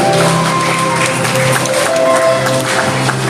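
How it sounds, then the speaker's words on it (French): A congregation at a Christian worship service applauds the Lord, the dense clapping loud and sustained under sustained musical tones and some voices. "On va applaudir le Seigneur pendant qu'il a passé."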